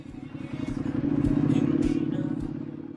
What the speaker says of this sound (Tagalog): Ingay na nga, pumuputok pa.